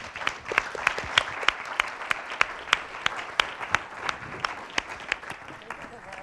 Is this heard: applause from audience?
yes